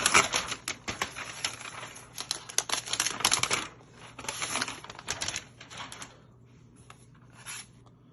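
Packaging of a new space gray Apple MacBook Air 15 being unwrapped: close crinkling, rustling and scraping in irregular bursts that thin out toward the end.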